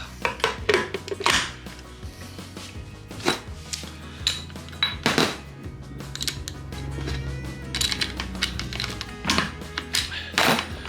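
Rebuilt farm transmission being shifted into low gear, with clunking metallic thunks and clicks of shifter clutches locking in, repeated knocks over a low mechanical rumble, fairly close.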